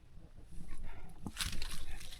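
A dog barks a few times in the distance, faint against a noisy outdoor background with low rumbling.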